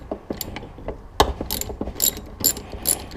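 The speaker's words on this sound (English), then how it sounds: "use a hex bit socket to get it started" A hex bit socket on a ratchet loosening tight coil bracket bolts on a Harley Sportster Iron 883, heard as close, crisp ratcheting clicks in short bursts with a few metallic knocks.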